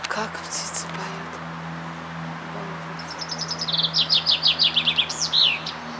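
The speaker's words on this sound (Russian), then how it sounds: "Как птицы поют." Birds singing outdoors on the grounds of a sanatorium, a series of clear rapid chirps and trills rising in the second half over a low steady background hum, with people talking at the start.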